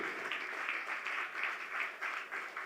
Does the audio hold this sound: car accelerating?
no